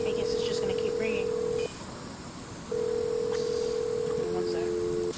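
A telephone in the Nancy Drew game Treasure in a Royal Tower rings as a steady electronic tone in long bursts with a silent gap between them, ending in a doubled tone, over a faint background hum.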